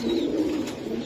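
A brief stretch of low, continuous cooing from Giribaz pigeons, soft and close with a faint higher whistle early on.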